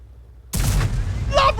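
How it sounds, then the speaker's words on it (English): A GW Panther self-propelled artillery piece fires a high-explosive round in a tank video game: one sudden, loud boom breaking a near-silence, followed by a sustained rumbling tail with faint game sounds. "Brilliant shot, wins the game with an HE round and takes out the enemy Arty."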